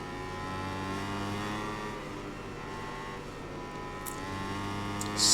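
A motorbike engine in MotoGP 21 revs steadily with a sustained harmonic whine that rises and falls slightly under throttle, heard close and continuous without talk, with a brief louder swell near the end.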